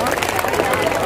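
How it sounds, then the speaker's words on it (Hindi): Applause for the school's top students at a Republic Day celebration at an Indian inter college, a steady dense patter of many hands clapping together with crowd murmur, brief and sustained. "सभी के लिए जोरदार तालियां बजाएं।"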